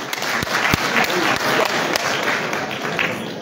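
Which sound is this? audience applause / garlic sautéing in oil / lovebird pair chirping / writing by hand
audience applause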